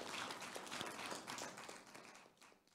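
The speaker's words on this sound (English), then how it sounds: "Hopefully you can pick up the applause and cheering that just was happening" Audience applause and cheering at a plenary session on trade rules, the WTO and TRIPS: fairly distant crowd clapping with scattered sharper claps, gradually fading toward the end.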